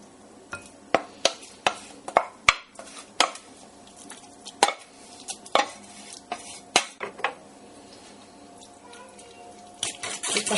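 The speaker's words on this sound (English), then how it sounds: "Give that a mix around" Pumpkin pie filling being mixed with a fork in a bowl: a run of sharp, close metallic clinks and scrapes against the dish, irregular but steady, with softer stirring in between and no talk.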